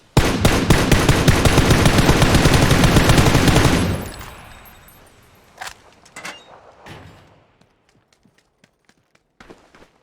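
Rapid automatic gunfire in PUBG, a player shooting at a tree, a loud, dense burst of fast shots lasting several seconds, then scattered single shots and faint distant reports trailing off.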